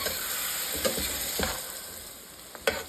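Pickles sauté over high heat in a pan for soup, a steady close sizzle running throughout with a few sharp scraping stirs cutting in.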